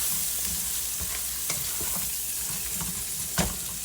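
Breakfast burrito filling sizzles steadily in bacon grease in a pan, with scattered scraping stir clicks and one louder knock near the end.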